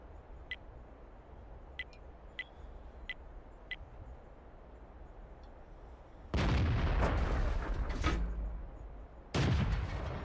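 Tank battle in World of Tanks: several faint, sharp clicks or distant shots early on, then two loud, heavy blasts of tank cannon or artillery fire, each roaring and rumbling for a few seconds.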